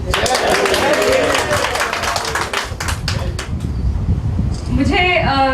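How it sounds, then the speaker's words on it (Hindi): Loud applause and clapping fill a hall at a speech event in New Delhi as Tina Dabi rises, steady and dense throughout, with voices mixed in and a brief lull before clapping swells again. "टीना को हम कहें कि वो जोरदार ताली जब वो उठे तो बजनी चाहिए"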